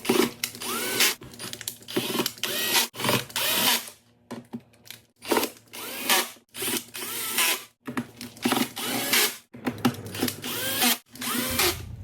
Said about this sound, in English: And now we can reinstall all those screws.